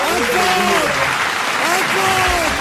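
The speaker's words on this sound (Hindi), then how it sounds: "तालियां हो जाएगा एक बार इस बंदे के लिए" Studio audience applause at a comedy reaction show, a steady dense wash of clapping throughout with a voice talking over it.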